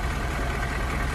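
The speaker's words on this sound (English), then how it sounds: "Here comes the first vehicle. It's a compactor." A compactor construction vehicle's engine idles in a children's app, a steady, loud, even rumble with no pauses.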